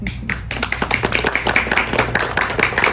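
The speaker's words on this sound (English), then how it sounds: "Please give yourselves a round of applause." A room full of people claps together, quick overlapping hand claps forming a dense, steady patter.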